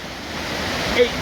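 Floodwater of the River Don in Sheffield rushing over a submerged island, a steady broad roar of churning water with a brief louder splash near the end.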